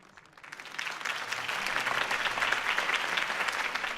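Crowd applause after a political campaign speech by Harvey Dent in the video game Batman: The Telltale Series rises from quiet and builds into full, steady clapping that carries on for several seconds.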